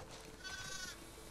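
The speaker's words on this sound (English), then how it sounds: "Listen up, sheep. Your dinner awaits you in the barn." Sheep bleating in The Last of Us Part II, a single short wavering bleat, faint and somewhat distant over a low background hum.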